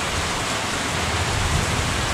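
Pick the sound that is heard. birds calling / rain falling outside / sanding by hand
rain falling outside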